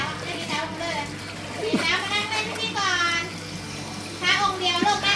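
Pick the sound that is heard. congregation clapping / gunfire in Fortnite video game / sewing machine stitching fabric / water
water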